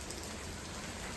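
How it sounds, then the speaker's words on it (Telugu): Heavy rain pours down steadily during days of nonstop wind and rain, a dense, even hiss close by with no talk over it. "వర్షం గాలి అయితే నాన్ స్టాప్గా పడుతున్నాయి అసలు 3 days నుంచి కూడా."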